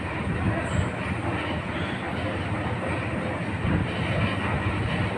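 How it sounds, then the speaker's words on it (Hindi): The Janhit Express waits at a station platform while a steady rumble of rail traffic and station noise fills the air, with faint metallic squeal and no clear speech. "और हमारी ट्रेन जनहित एक्सप्रेस लगी हुई है"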